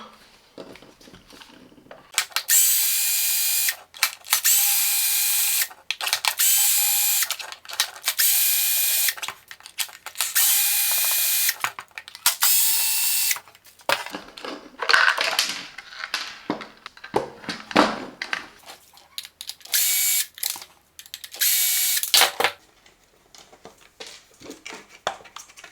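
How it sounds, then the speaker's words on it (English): Screws coming out during disassembly of a Parkside 20V cordless coffee machine: a series of loud, steady whirring, ratcheting bursts separated by short pauses, followed by looser mechanical clicks and rattles of parts being handled. "we need to remove more screws, because somewhere it is the pump"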